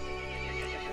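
Horse neighing in the video game Resident Evil Village, a single drawn-out whinny over a low droning background.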